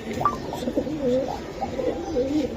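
Close, low pigeon cooing in a short series of throaty warbling calls, continuous and fairly loud.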